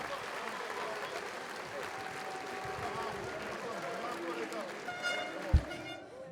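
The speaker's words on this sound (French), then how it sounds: "on peut les applaudir." A boxing-event crowd gives sustained, dense applause after a fight in Saintes, steady and full throughout, with a sharp thump near the end.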